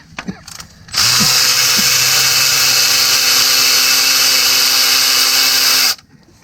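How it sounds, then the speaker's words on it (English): An electric ratchet spins out a timing chain cover bolt on a 2014 GMC Acadia 3.6L engine, a loud, steady high-pitched whir lasting about five seconds after a few light clicks, then stopping abruptly. "get yourself an electric ratchet if you're gonna do this job"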